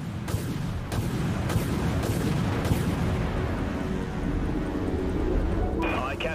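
Heavy missile launches from a warship in the naval combat game Dreadnought: a handful of sharp, booming bursts in quick succession over a dense, continuous rumble of battle noise, with voices faintly present in the mix.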